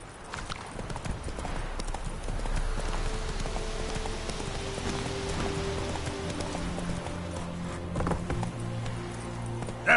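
Roach gallops across The Witcher 3 landscape, continuous rapid hoofbeats pounding at a steady rhythm for the full stretch, with a faint neigh near the end.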